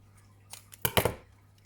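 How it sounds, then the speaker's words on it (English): Scissors trim excess material from a homemade hair bow in a few quick, crisp snips close to the ear, the loudest pair of cuts coming together near the end, in an otherwise quiet room. "then you want to cut off the excess"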